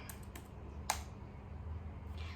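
A few quick keystrokes tapped on a computer keyboard while entering the CLS command at a Command Prompt, isolated clicks over a quiet room hum with one sharper key press.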